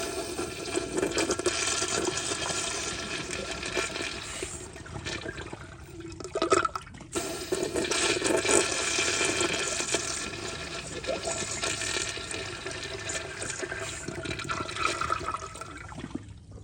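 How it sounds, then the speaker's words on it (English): A 1997 Kohler Dexter urinal fed by a garden hose flushes up close, a loud continuous rush and swirl of water with a brief pause partway through, then renewed gushing and siphoning as it refills. "here's a close-up flush"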